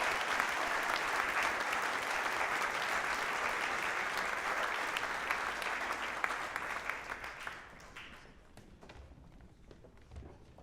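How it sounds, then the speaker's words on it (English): Sustained audience applause at a university awards show, a dense steady clatter of many hands that fades after about eight seconds into scattered claps, thumps and footsteps. "let's give another round of applause for our four-year seniors"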